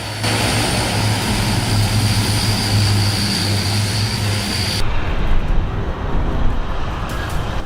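Ilyushin Il-18D turboprop airliner on a high-speed takeoff run, a loud continuous propeller and engine roar with a droning hum that shifts partway through, no voices.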